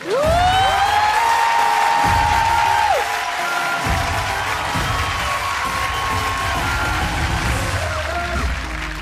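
Studio audience on a Marathi TV game show breaking into steady applause and cheering, a broad crowd wash over the whole stretch, with a rising electronic tone sweeping in near the start.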